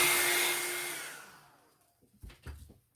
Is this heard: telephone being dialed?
no